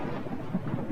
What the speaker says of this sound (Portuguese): Vai haver uma tempestade.